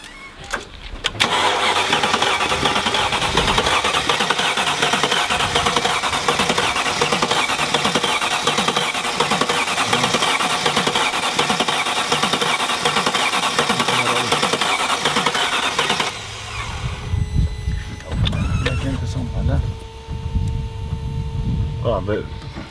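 A badly broken Mercedes-AMG engine starts and runs loudly and roughly with a steady rhythmic pulsing for about fifteen seconds, then settles into a lower, uneven idle while voices talk nearby.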